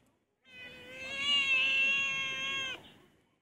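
A pet cat lets out a single long, drawn-out meow, close and clear, lasting around two seconds before cutting off into quiet.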